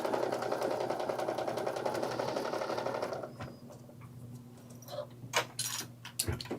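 A sewing machine runs in a steady, close whir while back stitching a tote bag, then stops about halfway. Fabric rustles and small clicks and taps of handling follow.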